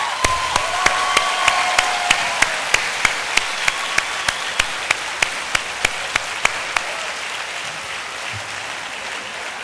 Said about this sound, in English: give our lecturers, staff, parents, family a big round of applause